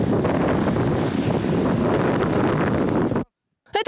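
Strong, cold wind roars across a Black Sea beach during Epiphany winter swimming, a loud, constant buffeting rush against the microphone that cuts off abruptly near the end.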